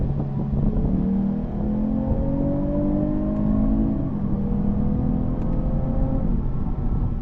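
A 2022 Lexus IS 350 F Sport AWD engine revving up through the gears, rising whines repeating as it accelerates, loud and close with a steady road rumble underneath.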